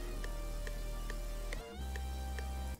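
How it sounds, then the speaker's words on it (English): Metronome in FL Studio 20 ticking off-tempo, faint regular clicks about every half second over a loud sustained sampled music track, with a brief dropout midway. "you have this issue where your metronome sounds like this"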